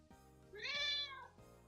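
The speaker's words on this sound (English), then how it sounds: "Do you think it's weird that we're watching cat videos when you have 2 cats?" A single clear, close cat meow, rising and then falling over about a second, heard alone in a visual novel video game.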